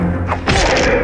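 Magic missile spell striking a target in Baldur's Gate 2, a loud thudding impact burst that swells and lingers over about half a second amid game ambience, with no talking.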